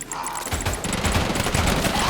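Minigun firing in the video game Deadly Days Roadtrip: a continuous, dense stream of rapid automatic gunfire that starts about half a second in and stays loud to the end, with no voices.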